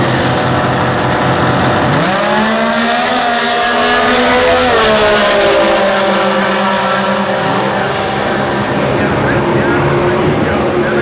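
A Comp Eliminator dragster with a Camaro-style body revs its engine while staged at the US Nationals drag race in Indianapolis, rising in a loud, close, sustained snarl that holds, wavers and shifts pitch, with an announcer talking over it.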